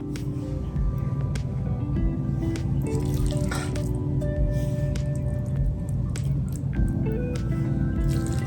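Wet, squishy spoonfuls of beef filling are dropped onto rolled empanada dough, with soft dripping and smacking sounds close by over a steady background hum.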